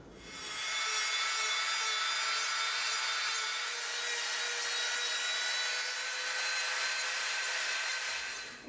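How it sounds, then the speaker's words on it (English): A Dremel rotary tool shapes and rounds over the front of an EVA foam piece, a steady high-pitched whirring grind held for several seconds, close and without talk. "we're going to Dremel this front,"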